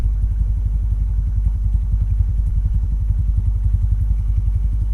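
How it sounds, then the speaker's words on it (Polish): A Junak motorcycle engine with a recently replaced cylinder head idles close by, loud and steady, with a rapid even thumping pulse and a light mechanical clatter. "Silnik ładnie pracuje"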